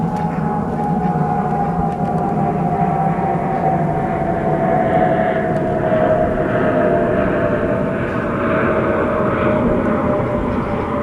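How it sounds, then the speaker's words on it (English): An airplane drones overhead above a raised-bed organic vegetable garden, a steady loud roar with a slowly falling tone that holds for the whole stretch and is heard alone without talk. "Okay, Mr. Airplane, hurry up."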